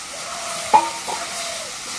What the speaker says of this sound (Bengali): এখন তরকারি একটু নাড়া দিয়ে দিই।